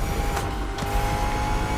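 A Ford Mustang Shelby GT500 drives in The Crew Motorfest racing game, its engine a steady, continuous drone with no break and no talk over it.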